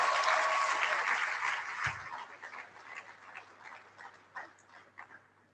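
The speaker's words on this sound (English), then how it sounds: "So let's give ourselves a big round of applause" Graduates at the Edo University Iyamho convocation ceremony burst into a short round of applause, loud at first and then thinning into scattered claps that fade away.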